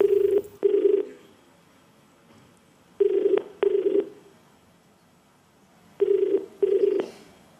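Telephone ringback as a call connects on the KBC quiz show set, a loud double-ring pattern repeated three times at regular intervals, clean and close with silence between cycles.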